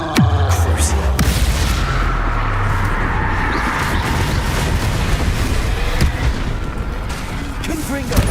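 Explosive spells blasting in Hogwarts Legacy: a heavy boom opens, then a loud rumbling, crackling roar carries on, punctuated by a few sharper bursts later.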